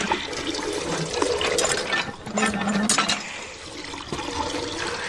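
Water splashes and pours into a small bucket, a steady rushing and trickling flow that carries on through most of the stretch, fairly close and alone without talk.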